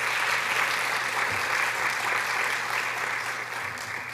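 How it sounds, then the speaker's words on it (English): A crowd at a Students of Color graduation celebration applauds continuously, a dense steady wash of clapping that tapers slightly toward the end, with no talk over it. "Please give yourselves a round of applause."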